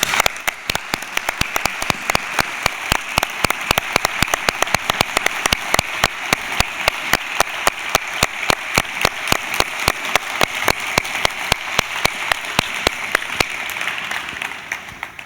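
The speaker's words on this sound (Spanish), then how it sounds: "Un aplauso." Audience applause at a medical anniversary gala in Albacete, loud sustained clapping from a large crowd with sharp individual claps standing out, continuing evenly for a long stretch with no talk over it.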